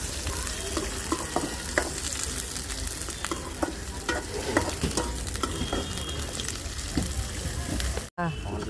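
Onions, mustard seeds and green chillies sizzling in hot oil in a pan over a wood-fired stove, a continuous crackling fry with occasional stirring scrapes, close and steady.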